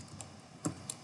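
A few soft, close keystrokes tap on a computer keyboard, quiet and irregular, with no one talking.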